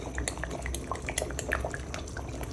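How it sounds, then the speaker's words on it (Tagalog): Fish sauce trickles into a simmering pot of pork rib sinigang soured with fresh tamarind, with soft, close drips and splashes over a faint bubbling. "At saka lalagyan ko rin siya ng patis."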